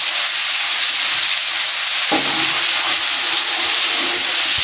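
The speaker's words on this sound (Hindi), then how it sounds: "सबसे पहले लहसुन और अदरक के पेस्ट को गोल्डन ब्राउन करेंगे पहले।" Garlic and ginger paste fries in hot oil for a dhaba-style mash daal, giving a loud, steady sizzle throughout, with a brief stirring scrape partway through. No one speaks.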